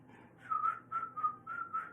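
A person whistles a tune from Snow White and the Seven Dwarfs in short, bright, evenly spaced phrases, clear and close, with a soft hum of background noise.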